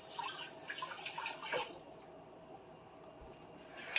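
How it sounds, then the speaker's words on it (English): Running kitchen tap water splashes over rinsing hands for about a second and a half, then cuts off, leaving a quiet room with a faint click at the end. "Give my hands a quick rinse"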